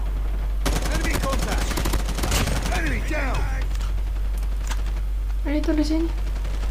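Gunfire in the Call of Duty Mobile video game, rapid bursts of automatic shots in the first half, fairly close and loud, with a voice talking over it afterward.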